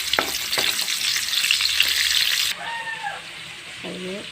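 Chayote cooking in a hot pan, a loud continuous sizzle up close that suddenly drops to a softer hiss, with stirring clatter and brief speech near the end.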